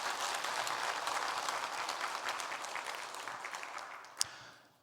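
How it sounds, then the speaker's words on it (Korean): Church congregation gives a round of encouraging applause during a Sunday sermon, a dense, moderately distant clapping that holds steady then tapers off near the end, with one sharp knock just before it fades. "격려의 박수 한번 하셨으면 좋겠습니다."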